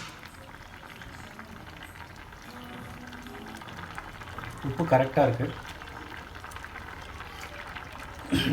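Cauliflower white kurma bubbles and simmers steadily in a pot, and a voice speaks briefly over the boiling.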